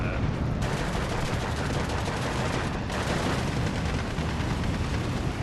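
A StuG assault gun firing on a KV tank in the World War II strategy game Steel Division 2, heard amid a dense, loud battle din of rapid gunfire and rumbling blasts that continues without a break and without talk.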